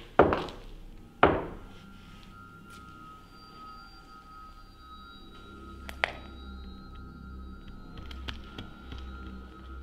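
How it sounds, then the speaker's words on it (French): Two sharp knocks on wooden floorboards in an old sanatorium, close and distinct about a second apart, followed by quiet room tone with faint distant taps. "pourriez-vous taper 2 coups comme ceci, s'il vous plaît?"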